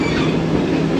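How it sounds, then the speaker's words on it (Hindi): A Tezgam passenger train hauled by a ZCU-20 locomotive pulls into Gujrat station on the Rawalpindi to Lahore run, a brief, loud, steady rumble of rolling wheels close by. "ज़बरदस्त रन ZCU-20 लोकोमोटिव का।"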